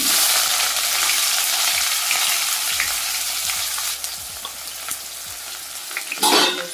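Thinly sliced onions hiss and sizzle in a hot pan for a mushroom masala curry, a loud continuous frying roar with faint stirring scrapes and a brief clatter near the end, no voices.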